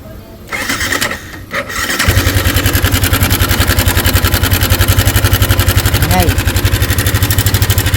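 A Yamaha Sniper 155 motorcycle engine with a faulty cam chain tensioner starts and settles into a steady idle with a rapid, rhythmic ticking rattle running through it, close and fairly loud.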